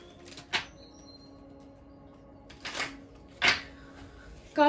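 A deck of tarot cards is shuffled indoors, four quiet, brief riffling bursts spaced unevenly across a hushed background.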